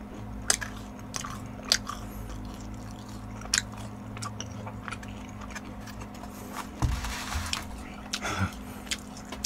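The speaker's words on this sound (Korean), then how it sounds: "알아서 짜장면 먹을게요" Someone eats jjajangmyeon noodles in a Korean mukbang, with close, quiet chewing, soft slurps and occasional sharp bites spaced every second or so over a low steady hum.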